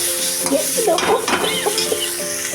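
Tomatoes frying in a pan with ginger, cumin and green chili paste give a steady close sizzle, with stirring scrapes and clinks of a spoon against the pan running throughout.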